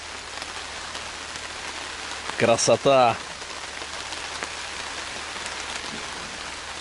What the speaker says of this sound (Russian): Смотрите, дождик пошел.